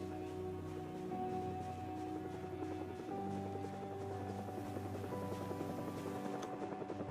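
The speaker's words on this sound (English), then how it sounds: "Oh, there's a heli." Helicopter passing overhead in the Project Zomboid zombie survival game, a steady rotor drone sustained throughout, mixed with continuous game music and ambience.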